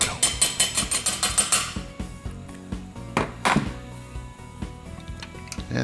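Hammer driving a grooved pin into a Winchester 62A rifle, a rapid series of about a dozen sharp taps followed by scattered heavier knocks and clatter, close and distinct with no voices.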